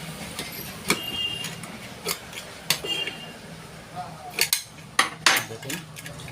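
A pressure cooker safety valve is screwed and tightened into the lid, giving a series of sharp metallic clicks and clinks spaced irregularly, close and fairly quiet against a faint background.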